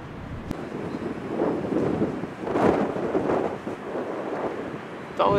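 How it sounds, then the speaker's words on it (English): Gusty afternoon wind at a construction site near LAX rumbles and buffets the microphone in uneven surges, loud and close throughout. "Always windy here in the afternoon,"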